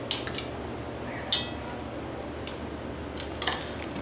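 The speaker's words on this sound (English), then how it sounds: "Cut each hard-boiled egg in half." A knife clicks against a board while cutting hard-boiled eggs in half for Sicilian braciole: a few faint, sharp taps spaced apart over a quiet room hum.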